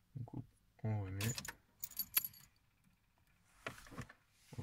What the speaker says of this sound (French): Couper et remettre le contact. On coupe, on remet.